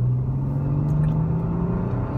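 A 2012 Mercedes-Benz E350 Cabriolet with a direct-injected V6 hums steadily while driving, a smooth low engine drone that slowly rises in pitch from inside the car.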